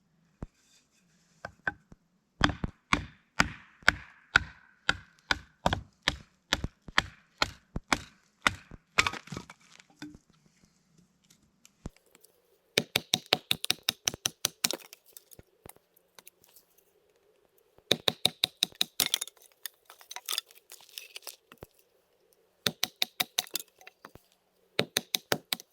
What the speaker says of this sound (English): I gotta get this stuff chopped down into kindling that'll work for the fire